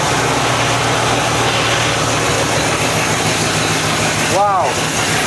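The engine of a 1963 Thunderhawk GT mockup runs after sitting for at least 35 years, a loud, steady, low idling rumble that holds unbroken throughout.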